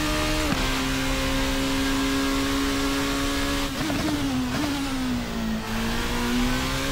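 A sim racing car engine on a Fanatec CSL Elite V2 pedal setup drones at steady revs, then dips and wavers through a heel-toe downshift under braking and settles into a new steady pitch, loud and close.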